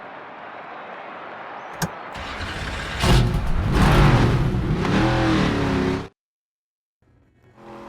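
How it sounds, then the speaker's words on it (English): NASCAR 25 video game race cars with engines firing up for qualifying, a loud rising engine roar building from about three seconds and holding steady before cutting off abruptly, with a quieter hum returning at the end. "The engines are fired up and the fight for the pole is on."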